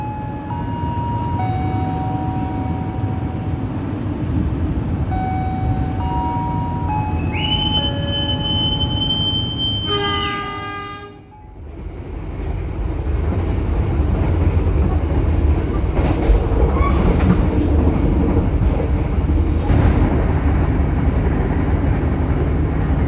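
The Menoreh passenger train rolls into a station with a steady rumble of wheels on rail, tonal squeals and a brief hiss before a momentary hush, then the heavy carriage rumble resumes close by.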